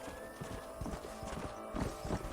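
Video game horse hooves clip-clop in a steady trotting rhythm, fairly quiet, with a faint whinny and a soft musical tone in the background, from Red Dead Redemption 2.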